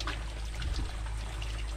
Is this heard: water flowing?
yes